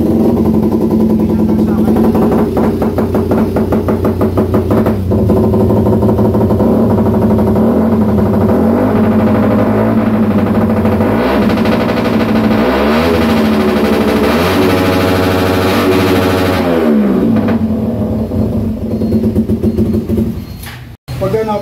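A carbureted Suzuki Raider R150 motorcycle engine with an interrupter relay, idling loudly and close, then revving up and down in repeated swells with rough exhaust popping, while someone talks over it.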